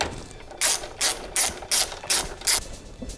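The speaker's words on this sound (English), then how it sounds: "as you're tightening, particularly this bracket here into place, just go slow in tightening the two bolts down" Ratchet tightening steering rack bracket bolts on a Subaru, six quick close rasping clicks in a steady rhythm, no talk.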